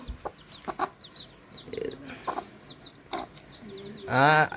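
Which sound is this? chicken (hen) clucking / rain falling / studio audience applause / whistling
chicken (hen) clucking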